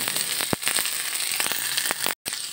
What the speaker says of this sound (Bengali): এখন আমি এই সেদ্ধ বাদামগুলো এর মধ্যে দিয়ে দেব।